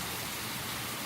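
Rain from a slow moving storm falls steadily, a dense even hiss filling the short stretch, fairly faint, with no voices.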